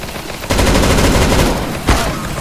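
Pistol gunfire in the CS:GO video game, a loud rapid volley of shots starting abruptly and continuing densely for about two seconds, with a sharper single report near the end.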